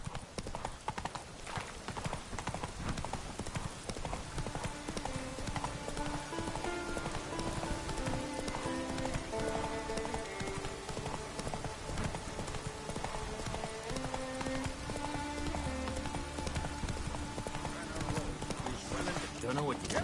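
Hooves of the horse Roach clip-clop steadily at a gallop in The Witcher 3, woven into a dense, loud bed of music and rain-like ambience, with speech also present.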